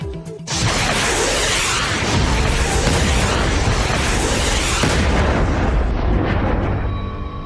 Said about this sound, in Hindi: तीस सेकंड में गिरी 30 मिसाइलें